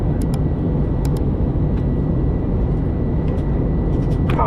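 Constant loud roar inside an Airbus airliner cabin on landing approach to Dallas/Fort Worth International Airport, a dense steady rush of engine and air noise with a few faint clicks and no talking.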